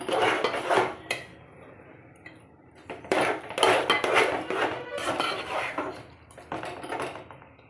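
Rice rava upma stirred in a pot, a metal spoon scraping and knocking against the sides in bursts of steady mixing, close and fairly loud.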